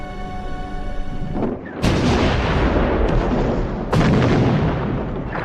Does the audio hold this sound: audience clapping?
no